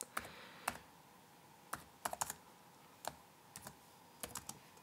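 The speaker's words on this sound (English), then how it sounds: "I'm going to type now element ID" Typing on a computer keyboard: soft irregular key clicks, some in quick clusters, close but faint against a quiet room.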